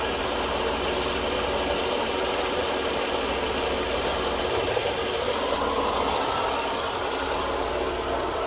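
A 1992 Mercedes-Benz W124 engine running with an unsteady, cycling idle that has hard-starting trouble, a steady close mechanical drone with a slight knocking vibration throughout.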